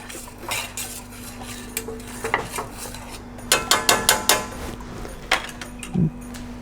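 A metal spoon scrapes and clinks against a pot while green Thai curry sauce is stirred, giving irregular bursts of knocks and scrapes over a faint steady hum, with no talking.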